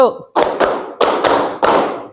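Group of participants at an Indonesian teacher coaching session clapping together on cue, several sharp claps in a short rhythmic pattern, close and loud after a brief spoken prompt.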